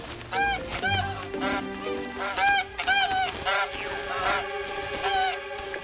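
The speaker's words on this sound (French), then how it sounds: "Regardez là-haut. Oh, des oies sauvages." A flock of wild geese in the animated Yakari series honks over and over in a quick, uneven series of calls, loud and fairly close, with no talking.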